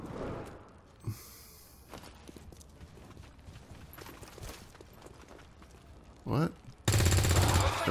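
A soldier in the video game XCOM 2 fires a gunshot that lands as a sharp, loud burst near the end of a stretch of quieter game sounds, with a few smaller thuds and clicks before it.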